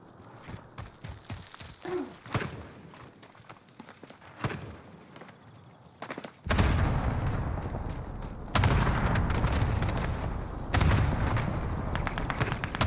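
Cluster strike explosions in a Call of Duty match, a string of heavy rumbling blasts rolling in one after another in the second half, loud and sustained, preceded by quieter scattered game noises and footsteps.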